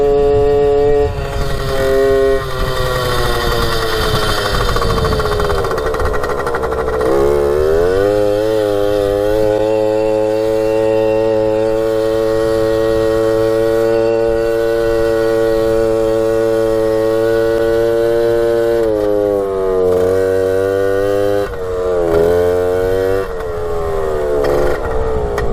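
Small Suzuki JR50 dirt bike engine running loud and close with the choke on, a steady buzzing idle that rises and falls in pitch through several revs, with no talk over it.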